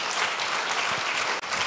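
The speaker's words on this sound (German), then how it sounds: "das ist Ihr Applaus" An audience at an adult education centre event claps steadily and fairly softly in one continuous burst, with no voices over it.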